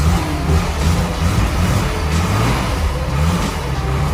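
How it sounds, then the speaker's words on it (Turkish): A loud classic Mercedes engine roars and revs, its deep growl swelling and easing over a continuous rumble with road noise. "Büyük motor sesi nasıl geliyor"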